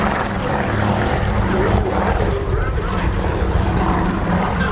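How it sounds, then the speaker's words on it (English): A PBY-5A Catalina flying boat takes off from the runway at Duxford airfield, its propeller engines sounding as a loud, steady, broadband roar that holds for the whole stretch, with a voice talking over it. "One of the shorter takeoffs of the day."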